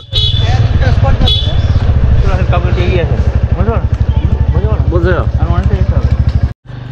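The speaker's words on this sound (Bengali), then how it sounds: "টিভিএস বাইক 80 কিলোমিটার স্পিডে তো এসেছে, কিন্তু কত সার্ভিস দিচ্ছে দেখো।" A TVS 110cc motorcycle carrying three riders drones steadily and close at around 80 km/h, with wind rush and voices talking over it throughout.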